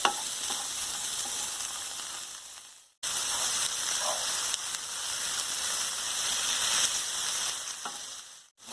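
Eggplant sauce sizzles and fries steadily in a pan while being stirred, a dense close hiss broken by one brief pause before the sizzle resumes, with no voices.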